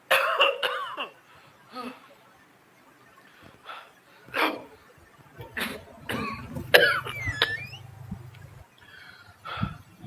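A man having an asthma attack coughs in a string of harsh bursts, some loud and close, others weaker, with quiet gaps between them.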